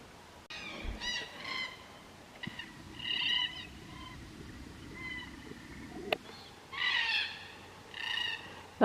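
Cockatoos call in the early morning along the Bibbulmun Track bushwalk, with several harsh, ringing bursts repeating at intervals over a soft background of bush ambience and light footsteps.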